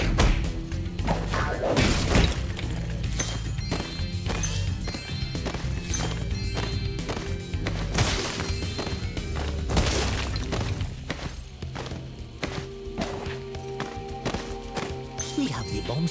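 Bombs blowing up an egg cage in Spooky Swamp, Spyro 3 from the Reignited Trilogy: several sharp booming cracks and shattering hits land over busy game music and effects.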